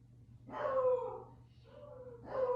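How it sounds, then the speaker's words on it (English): Dogs bark outside, heard indoors as two or three muffled, mid-distance woofs spaced a second or so apart over a low background hum. "I don't know what they see out there that they're barking at"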